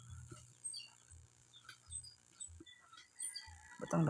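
Minecraft chickens cluck and chirp in short, faint bursts over a quiet game backdrop, with occasional soft clicks and a brief louder noise at the end.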